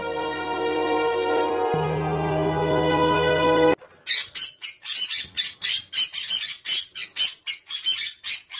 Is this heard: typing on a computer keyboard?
no